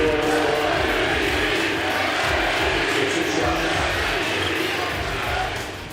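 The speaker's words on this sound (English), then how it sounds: "Listen to the crowd." A basketball arena crowd cheers in support of an injured player with a kneesprain, a dense sustained roar of many voices that holds steady and then fades near the end.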